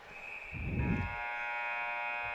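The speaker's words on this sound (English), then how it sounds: "A whistle right at the buzzer at the end of 2 periods" A sustained electronic buzzer marks the end of the second period at a GMHL junior ice hockey game between the Lakers and the Steelfighters, droning steadily at moderate volume over a low arena rumble.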